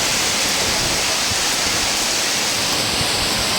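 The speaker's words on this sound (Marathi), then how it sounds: "किती वादळ आले बघा, वादळसारखा पाऊस आला पूर्ण. किती हवा सुटली आहे पूर्ण." Heavy stormy rain lashed by strong wind at night, a dense, loud, unbroken roar of rain and gusts filling the whole stretch with no voices.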